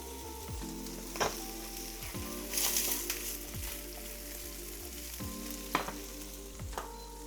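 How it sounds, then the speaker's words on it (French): Salmon cooks in a hot pan with a soft, steady sizzle and a few sharp spatters and stirring knocks, quiet and close with no talking. "on a le saumon qui cuit"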